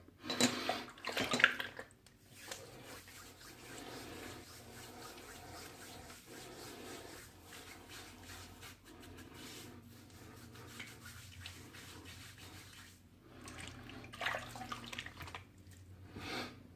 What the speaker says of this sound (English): All right, do a quick little rinse here.